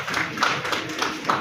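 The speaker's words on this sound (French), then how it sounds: "On peut applaudir" Scattered clapping from a small group at a public health gathering on cholera response, a few hands clapping unevenly at close range.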